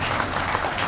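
A short burst of dense, continuous audience clapping fills a hall during the Bihar Pratibha Samman award ceremony.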